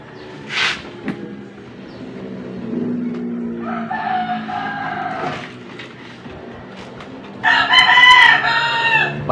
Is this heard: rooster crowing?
yes